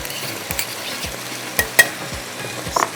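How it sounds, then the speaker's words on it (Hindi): Ginger garlic paste hits browned onions and mutton in a hot pot for mutton biryani, giving a steady close sizzle broken by a few sharp stirring clinks and scrapes of a spoon against the pan. "अदरक लहसुन डालते हैं इसके अंदर"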